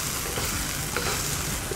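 Onion and Chinese sausage sizzling in a wok for fried rice while they are pushed to one side, a loud, dense, continuous hiss with scraping stirring sounds and no voices.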